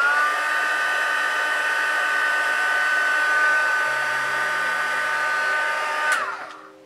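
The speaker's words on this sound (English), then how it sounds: "need to put your heat gun over the area you want to force dry or set" A heat gun blows continuously as it dries and sets paint on a doll's foot, a loud, steady, close whine and rush of air that winds down and cuts off near the end.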